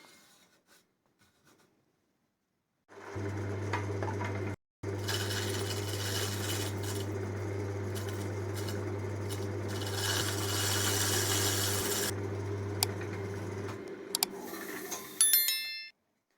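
Laurel wood spins on a lathe while a new carbide tip tool scrapes across it, a steady low hum joined by a continuous rasping cut for about eleven seconds, then the tool stops and the machine winds down.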